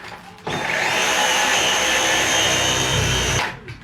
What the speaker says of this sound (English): I didn't need to vacuum the ceiling this morning